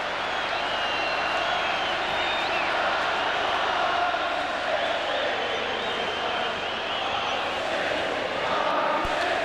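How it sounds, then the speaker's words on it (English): Stadium crowd of football fans roaring and cheering after a goal at a Champions League night between Manchester United and Galatasaray, a dense, steady wall of sound sustained throughout with no quiet gaps. "The crowd are on their feet again, and it's 4-0"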